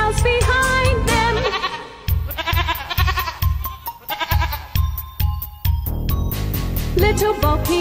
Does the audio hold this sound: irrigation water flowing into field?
no